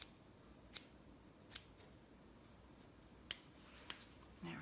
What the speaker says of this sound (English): I'm just literally just trimming hairs right now.